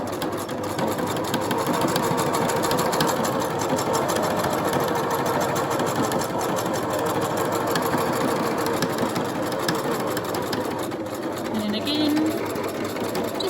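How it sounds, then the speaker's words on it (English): A sewing machine runs continuously, stitching down a marked pintuck line in fabric, with a loud, steady mechanical whir and rapid needle rhythm. "I'm just going to stitch all the way down that line"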